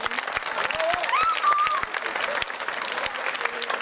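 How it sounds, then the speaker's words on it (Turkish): A crowd applauds continuously at a children's tournament trophy ceremony in Denizli, dense clapping throughout, with a brief whistle rising above it midway. "Anne ve babalarımızı alkışlıyoruz."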